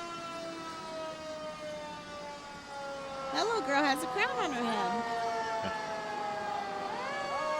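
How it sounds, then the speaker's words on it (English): Sirens from old fire engines rise and wail during a parade, a steady tonal drone joined midway by loud sweeping siren whoops, heard under nearby conversation. "It's some great old fire engines."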